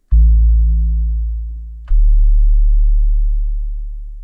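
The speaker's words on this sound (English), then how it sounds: "A sub-bass is just a super simple synth that performs the bass line an octave lower" Deep, smooth sub-bass synth tone holding one low note, then dropping to a lower note with a soft click at the change, loud and sustained.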